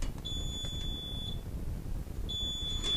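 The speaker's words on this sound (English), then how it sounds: "Oh, that's the pump going off." A sump pump backup system shuts off with two high, electronic beeps, each held for about a second, over a low steady hum.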